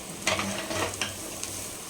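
Cauliflower sautéing with chilli masala in a pan, giving a soft steady sizzle with a few brief scraping stirs, close and fairly quiet, no voices.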